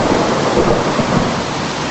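Heavy rain pours steadily with a rolling rumble of thunder in a stormy sound effect, dense and loud throughout with no voices.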